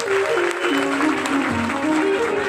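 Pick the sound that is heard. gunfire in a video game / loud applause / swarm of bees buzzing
loud applause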